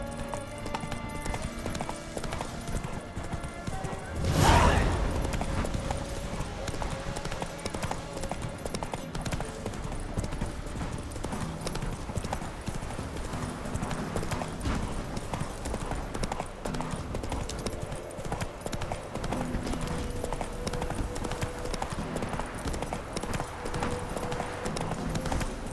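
Horse hooves clip-clop steadily through a long ride in The Witcher 3 video game, a continuous rhythmic trot under game music, with one loud burst of sound near the start.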